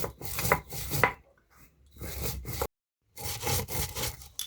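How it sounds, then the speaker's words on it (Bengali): Whole spices are crushed coarsely by hand for a raw mango pickle, giving rough scraping and grinding strokes in irregular bursts with short pauses, close and fairly quiet, without talk. "তো দেখুন মশলাগুলো ঠিক এইভাবে গুঁড়ো করে নিতে হবে"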